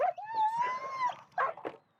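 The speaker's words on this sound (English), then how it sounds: "That's a dog." A dog lets out a long rising howl that sustains for about a second, then breaks into two short yelping bursts, close and fairly loud during a police traffic stop.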